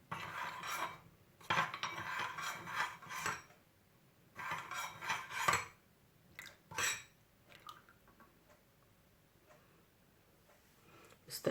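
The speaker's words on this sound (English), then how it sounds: "You add some oil. You mix all together." Beef suya meat being mixed by hand or utensil with seasoning and oil, giving soft rubbing, rasping and clinking bursts in uneven clusters, close and fairly quiet, with pauses between bouts of mixing.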